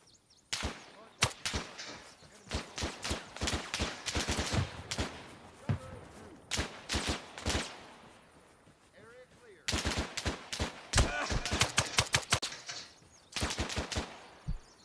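Gunfire in Arma Reforger comes as repeated bursts of automatic fire and single shots, loud and sharp with short pauses between volleys over about fifteen seconds.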